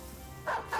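Dogs bark twice in quick succession in the game Battle Brothers, short midrange yaps rising over a steady low background hum.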